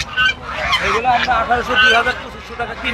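Geese honk loudly and repeatedly at a large poultry and goose market in northern Bangladesh, layered over a dense crowd babble and nearby talking.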